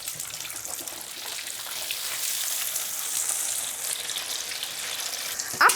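Carp frying in hot oil in a casserole pot, a steady close sizzle and bubbling throughout with a brief louder crackle at the end.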